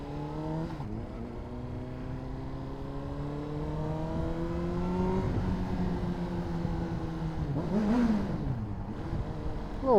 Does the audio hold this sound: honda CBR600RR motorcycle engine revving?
yes